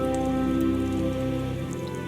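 Rain falls steadily on the damp mires of a fantasy video game world, a dense, even patter that fills the scene alone without any voices.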